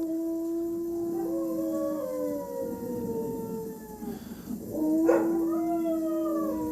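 Several dogs howl together in a sustained chorus, long rising and falling wails layered over one another, with a brief swell of louder yelping in the middle before the group settles back into steady howling at moderate distance.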